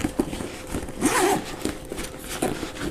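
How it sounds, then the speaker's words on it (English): A Case Logic DCB307 camera bag is unzipped with a few short, scratchy zipper pulls close by, including one longer drag in the middle. "we can unzip it and you can see what else you get in there"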